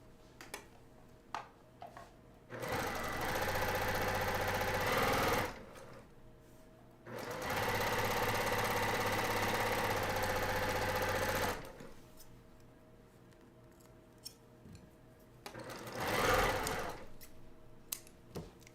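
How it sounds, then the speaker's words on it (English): A sewing machine stitches a felt quilt block for a gingerbread ornament. It runs in two sustained, steady whirring bursts and then a shorter third run, with quiet ticks and handling noises between them, close by and with no talk. "I'm going to sew this with the strip to the top to prevent it from warping."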